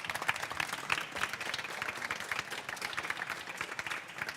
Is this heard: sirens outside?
no